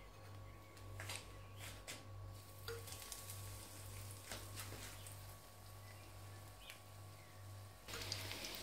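Chicken shami kebabs coated in bread crumbs frying in hot oil, a steady low sizzle running throughout with occasional brief clinks of a utensil, fairly faint and with no talking.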